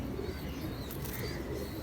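Rampuri pigeons coo softly in low, rolling repeated calls, faint and close, with no talking.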